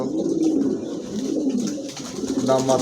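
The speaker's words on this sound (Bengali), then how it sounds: "আরও 2টা কবুতর আছে আমি দিচ্ছি" Domestic pigeons, kept for sale as quality fancy breeds, coo steadily in low, throaty, overlapping calls from close by, with a few brief voices murmuring faintly in the background.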